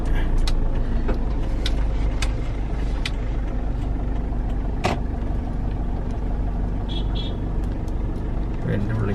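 A converted Toyota Innova drives up and arrives at a house, its engine and road noise a steady, close drone throughout, with people talking over it and a few sharp knocks.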